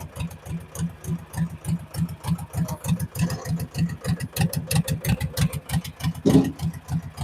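A tractor without power steering runs close by, its engine chugging in a steady, rapid rhythmic pulse that holds even and fairly loud throughout, with no talking.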